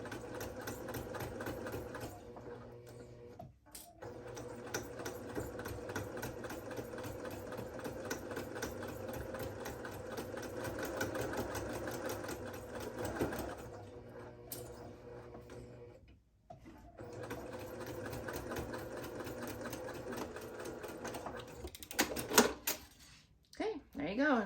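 A sewing machine stitching the seam of a washable wet bag over folded fabric, with a fast rhythmic mechanical whir that runs in long bursts, pausing briefly twice, close and fairly quiet.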